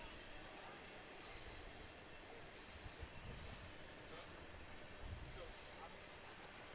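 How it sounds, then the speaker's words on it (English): Train rolling past near a baseball field during a night game, a faint, steady low rumble of rail cars with soft clacks, heard in the distance under a broad crowd-like background. "As the train rolls by once more."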